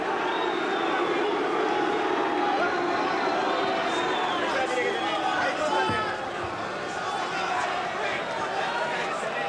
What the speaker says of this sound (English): Hamed trying to shut the boos of the crowd out of his mind